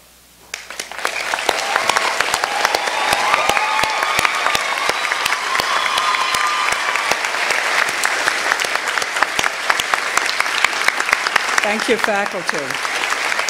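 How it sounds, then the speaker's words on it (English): A commencement audience claps for the standing faculty, with a loud, dense round of applause that builds quickly and holds steady throughout, while a voice speaks briefly near the end over the clapping. "I'd like to clap for them to recognize their accomplishment"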